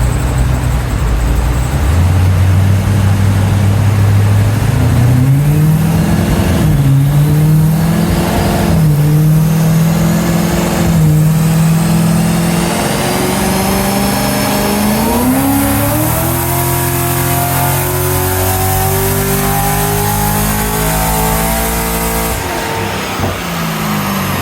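A car engine on a dyno, fitted with a 3800 torque converter, revs up in a long, loud pull, its pitch climbing steadily through the run before easing off near the end.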